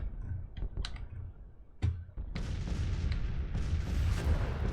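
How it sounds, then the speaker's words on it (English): Cannon artillery fire sounds in the Grand Tactician Civil War video game. A few sharp booms and clicks are followed by a dense, continuous rumble of distant cannon fire and battle noise. "Let's keep on blasting the enemy cannons."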